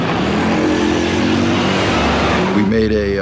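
A Pontiac Solstice sports car fitted with aftermarket body parts drones loudly and steadily, then its pitch jumps upward near the end, with voices mixed in.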